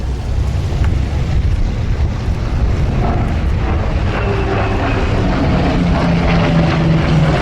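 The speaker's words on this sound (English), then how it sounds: "This Corsair is run by Mr. Goldberg from the Red Bull team" A Red Bull Flying Bulls Corsair propeller fighter flies at the Duxford Flying Legends airshow, its loud, steady engine drone rumbling continuously with wind buffeting the microphone.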